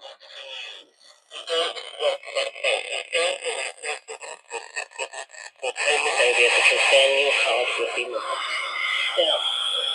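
A radio assembled from an electronic project lab kit plays, giving a thin, loud broadcast of talk and music with a rasping, noisy edge that grows fuller and steadier partway through.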